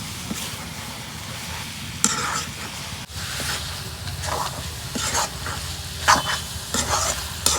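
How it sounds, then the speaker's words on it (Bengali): Banana stem (thor) fries in a pan, a soft sizzling hiss broken by stirring scrapes and irregular bursts of crackle, heard up close and moderately quiet. "এই দেখো অনেক সুন্দর করে ভাজছি, কালারটা দেখো।"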